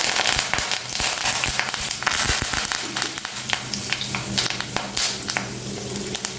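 Curry leaves dropped into hot oil with mustard seeds and cumin, spitting and crackling in a dense, close sizzle with frequent sharp pops throughout, no voices.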